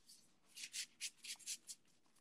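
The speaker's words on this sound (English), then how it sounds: "But I just do a little shuffle." Quick riffle shuffles of a gold-edged tarot deck, several short papery bursts in an uneven rhythm, close and quiet with no talking.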